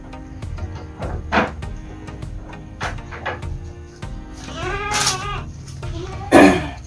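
A mother goat on a small farm bleats repeatedly while searching for her kid, with several wavering calls close by amid scattered knocks and clatter.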